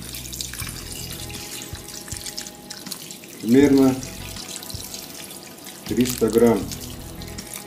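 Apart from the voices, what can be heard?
pouring water into cooking pot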